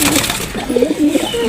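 Pigeons coo softly and repeatedly at close range, with low burbling calls over faint background noise.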